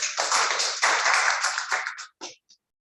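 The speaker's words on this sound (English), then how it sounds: "Let's give him a big round of applause." A Toastmasters club audience claps for a speaker after his speech, a short burst of close, sharp handclaps that thins out and stops with a few last isolated claps.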